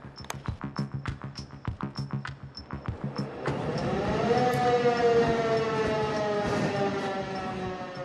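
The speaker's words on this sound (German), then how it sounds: "Machen wir eine Sirenenprobe, bitte." Airport fire brigade alarm siren sounding during a test, starting with rapid pulsing tones and then settling into a loud, sustained wailing siren.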